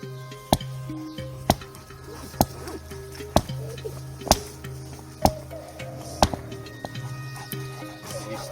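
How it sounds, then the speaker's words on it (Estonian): A stone is smashed against a bigger stone in a forest to make a stone tool. About nine sharp, hard knocks land at roughly one-second intervals, close and distinct. "Lööme suurema kivi pihta puruks."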